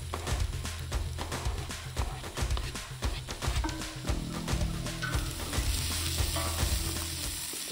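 Chopped onions frying in olive oil in a pot at an outdoor kitchen, a dense close sizzle with crackling pops and utensil scrapes running continuously.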